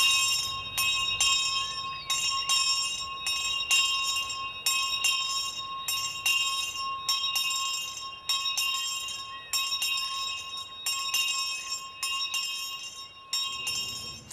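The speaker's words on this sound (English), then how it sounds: "rang the bell loudly to call attention" A bell at a house garden is rung loudly and repeatedly in a steady rhythm of bright, ringing strikes, close and continuous over several seconds, with no talk.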